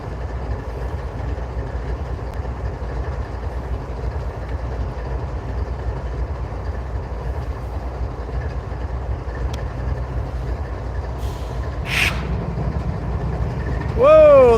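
Locomotive 8151 holding on the track at a trackside spot on a line toward Chattanooga, a steady low rumble of an idling diesel throughout, with a brief squeal and a louder burst near the end.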